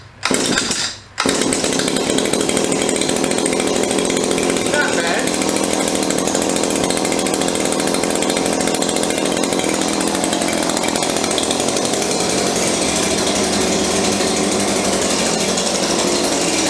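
An Echo PAS2620 gas-powered pruner engine runs loud and steady close by, a continuous two-stroke drone with a brief dip right after it catches, then holding at high revs throughout.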